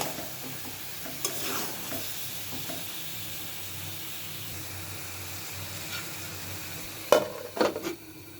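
A green tomato curry sautés in a pan, sizzling steadily at a moderate level while a spoon stirs and scrapes, with a sharper clatter of utensil against the pot near the end.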